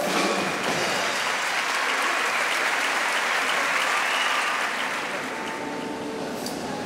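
Loud, sustained applause from a large crowd at a charity music festival in O Grove, Spain, after a band's performance, steady clapping filling the whole stretch and easing slightly toward the end.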